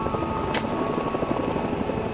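A helicopter flies in pursuit of a rhino in the South African bush, carrying a dart gun: a steady, loud rotor thrum with rapid blade chop runs through the whole short clip, close and unbroken, with no speech.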